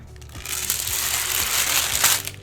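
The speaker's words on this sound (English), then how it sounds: "we're going to go ahead and remove the parchment" Parchment paper is pulled from a brownie pan, producing a close, continuous crinkling and rustling that swells and fades over a couple of seconds.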